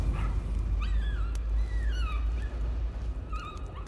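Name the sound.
dog whimpering in video game Layers of Fear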